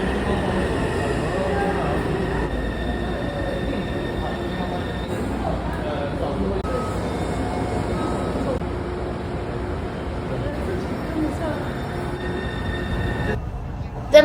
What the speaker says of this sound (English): One of the easiest ways to get around Taipei City, in my opinion, is via the Taipei Metro.